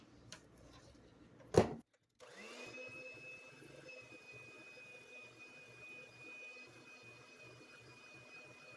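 A food mixer whirs through a batter, a steady motor hum with a high whine that starts after a short knock and clatter, continuing evenly and moderately loud with no talk.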